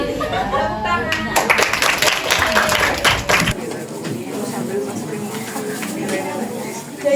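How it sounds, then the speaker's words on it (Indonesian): Schoolchildren in a classroom clap together in a burst of quick, dense applause that stops sharply, and a teacher's voice continues speaking afterward. "Tepuk tangan."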